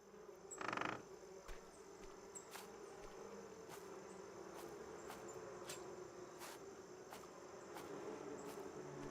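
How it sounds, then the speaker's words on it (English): Bees buzz in a farming video game, a constant faint droning hum with a brief louder burst near the start, heard alone with no talking. "those bees make a lot of noise"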